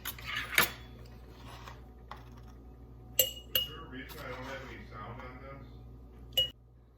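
Teaspoon clinking against glass pint jars while pickle crisp is added for pickled asparagus, a few sharp close clinks and taps spaced out over kitchen background noise.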